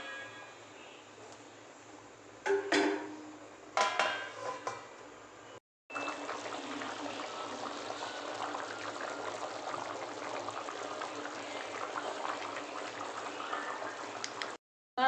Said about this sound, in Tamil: இப்போ இது மூடி போட்டு கொஞ்சம் நல்லா வேக வச்சு எடுத்துக்குவோம்.